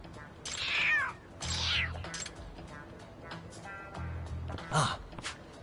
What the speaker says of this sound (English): Y'all got me stroking a cat.